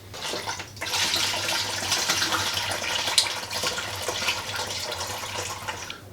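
Homebrew wort pours steadily through a regular strainer into a bucket, a continuous close splashing rush of liquid that starts abruptly and runs for several seconds before tapering off.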